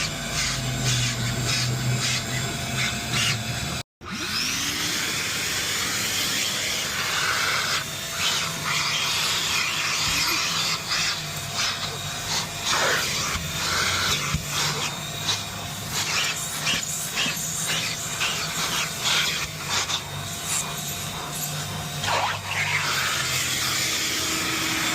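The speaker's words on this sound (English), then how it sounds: "Just let it sit in for a few minutes and vacuum it out" A vacuum cleaner roars steadily with a hissing, airy suction, briefly cutting out near the start, then scraping and rubbing over a BMW car's carpet.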